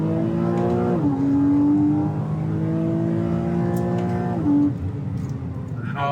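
A Porsche Cayman R accelerates hard along a straight, its engine note rising loudly through the revs, briefly dipping at a gear change, then climbing again before easing off near the end.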